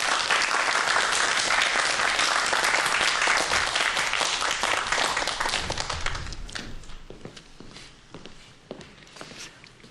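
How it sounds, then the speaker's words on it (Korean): Audience applause welcoming a physics professor onto a science lecture stage, loud and dense at first, then thinning into scattered claps and a few footsteps as it fades. "박수 부탁드립니다."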